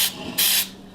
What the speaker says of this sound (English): I'm going to spray this with baking spray.